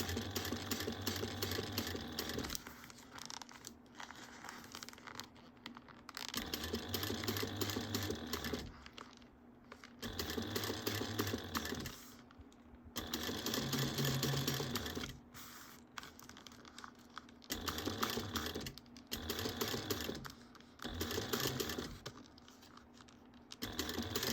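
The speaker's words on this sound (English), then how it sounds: "Okay, so we got that one side sewn on." A sewing machine stitches a zipper gusset onto a bag in several steady bursts of a few seconds each, with short pauses and faint fabric handling between runs.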